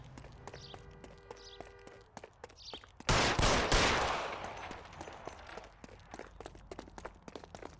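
Gunshots in the video game L.A. Noire crack out as a loud burst with a decaying tail, surrounded by sharp, scattered shots and a faint rhythmic clatter before and after.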